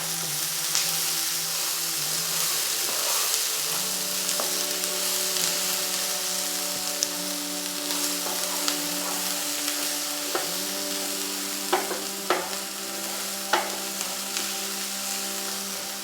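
Chopped onion frying in a pan, a steady broad sizzle running throughout with scattered sharp pops and clicks of stirring, close and fairly loud with no talking.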